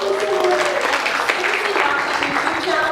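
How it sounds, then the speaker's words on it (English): Audience applause after an improv performance, a dense, steady wash of clapping from a crowd that holds at an even level throughout, with voices mixed in underneath. "give her a round of applause"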